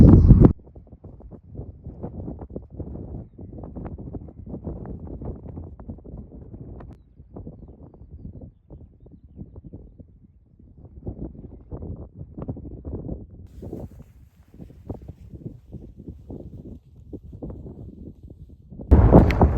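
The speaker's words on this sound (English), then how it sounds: "So weather's not too bad, a little bit blowy, but we'll make it work." Wind gusting against the microphone on a walk along Hadrian's Wall, low rumbling buffets that swell and fade irregularly throughout.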